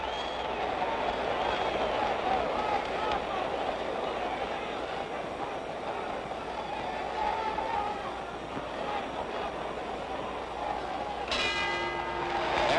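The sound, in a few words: boxing ring bell ending a round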